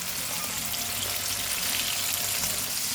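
Flour-coated chicken wings fry in hot oil, a loud, continuous crackling sizzle with a fine hiss that holds steady and close throughout, with no voices.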